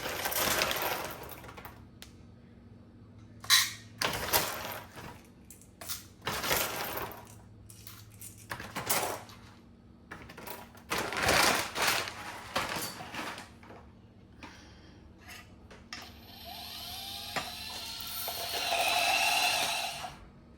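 A Lagom Casa electric coffee grinder crushing beans: crunchy, irregular bursts, then a steadier high motor whir near the end, close and fairly loud with no talking.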